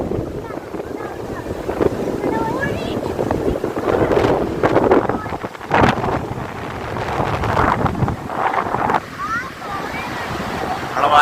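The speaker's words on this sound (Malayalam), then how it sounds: "കടലിന്റെ ഹെവി കാറ്റാണ്" Heavy sea wind roars and buffets the microphone at Mattool beach, with surf washing steadily underneath and gusts swelling and easing through the clip.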